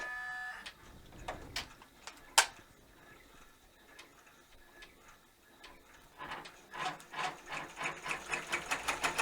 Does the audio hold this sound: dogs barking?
no